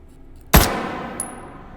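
One loud, sharp UMP-9 shot in the H3VR video game, followed by a ringing decay and a bright metallic ping as the round strikes a target a moment later.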